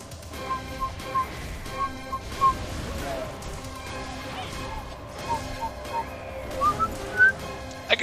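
Whistling from a person playing Monster Hunter Frontier, with a few short melodic whistled notes around the middle and end, set against steady game sound effects and music.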